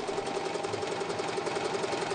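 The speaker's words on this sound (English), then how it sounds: "This sewing machine looks good," A sewing machine runs steadily on its own, its even, rapid stitching rhythm holding for about two seconds while a repair technician tests it for a fault in the reverse function.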